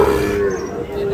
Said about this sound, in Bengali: দর্শক দেখছেন শাহিওয়াল জাতের বাছুর